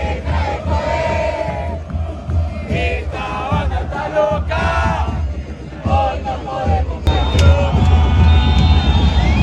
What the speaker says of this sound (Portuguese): Mas a torcida continua